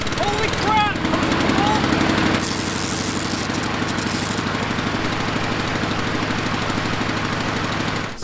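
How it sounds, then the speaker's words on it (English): A rotary lawn mower engine idles while warming up, a loud, close, steady rapid chugging with a few brief bursts of higher-pitched sound early on, running continuously until it cuts off at the very end. "while that stupid mower is warming up"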